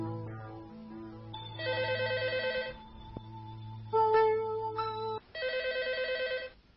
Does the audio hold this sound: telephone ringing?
yes